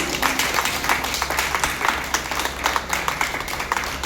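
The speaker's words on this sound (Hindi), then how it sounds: "उस माँ के लिए आज जोरदार तालियों में कोई कमी नहीं है।" Steady applause from a crowd at an Arya Samaj event, many hands clapping together in a dense, continuous patter that holds at an even level throughout.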